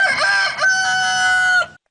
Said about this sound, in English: Here's the sound of a rooster.